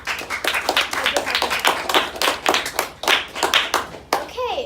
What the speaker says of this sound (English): I just have to give them a round of applause